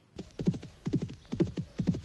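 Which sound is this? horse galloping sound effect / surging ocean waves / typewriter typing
horse galloping sound effect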